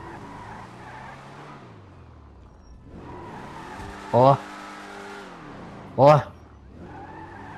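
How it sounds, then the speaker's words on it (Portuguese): Car tires squealing at launch in GTA V Online: engine revving rises and falls with two short, sharp tire squeals, and someone talks over the sound. "sai com ele pra eu ver aqui, ele canta pneu, eu achei engraçado isso aí"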